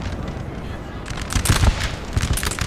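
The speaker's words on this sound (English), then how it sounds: "And my musketeers are now in range, so I'm going to quickly start trying to hit up all these units here." Musket volleys crackle in Napoleon: Total War on Prussian hills, a dense rolling rattle of gunfire with deep booms, continuous and moderately loud over a battle din.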